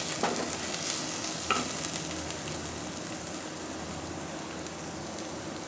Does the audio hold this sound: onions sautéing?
yes